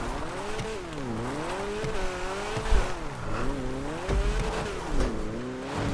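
A Grotti Stinger sports car in the GTA video game revs with a wavering, up-and-down engine note, with a few dull thumps as it hits a house and flips over, loud and close with no talk.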